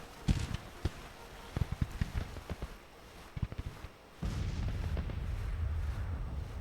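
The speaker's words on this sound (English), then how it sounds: "It's just a counter battery fire from this guy." Counter-battery artillery fire in the Civil War strategy game Grand Tactician, sharp cannon booms at uneven intervals followed by a louder sustained rumble of continuous firing and battle noise.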